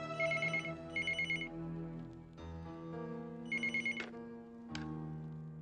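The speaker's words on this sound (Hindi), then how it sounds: "फोन।" A telephone rings in repeated double bursts of bright electronic trills, with a sustained tonal background playing underneath throughout.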